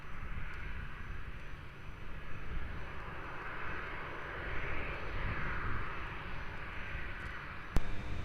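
A Ryanair jet climbs out from Lisbon Airport, a faint, distant broadband engine roar that swells gently and fades, heard alone without voices.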